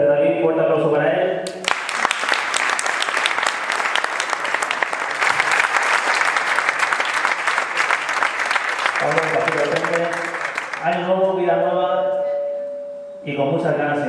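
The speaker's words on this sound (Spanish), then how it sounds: "gracias David, fuerte aplauso para él." Loud, sustained audience applause for a cycling team rider fills about seven seconds, framed by someone speaking before and after it.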